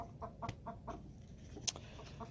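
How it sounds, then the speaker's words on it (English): Chickens fighting, short quick clucks and squawks in a rapid uneven burst, faint and somewhat distant. "Sorry, chicken fight."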